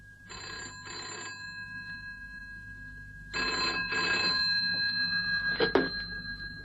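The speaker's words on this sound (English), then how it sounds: "and then the phone rang." Old-style telephone bell rings in a radio drama sound effect, two double bursts of ringing separated by silence, loud and close with no voices.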